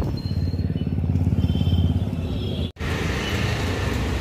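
A motorcycle rolls into a petrol pump in Baruipur, its engine putting steadily and close throughout, with a brief dropout near the end before the engine noise resumes.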